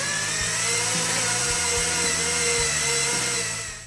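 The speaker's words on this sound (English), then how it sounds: "you drilled through both axle tubes" A steady, loud power-tool whine runs throughout with a low rhythmic pulsing underneath, a heavy drill boring through steel axle tubes.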